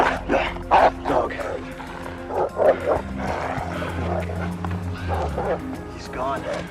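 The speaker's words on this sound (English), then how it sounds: "Dog." A dog barks in quick bursts, some loud and close, with yips and whimpers mixed in, while tense voices speak throughout and a low hum runs underneath.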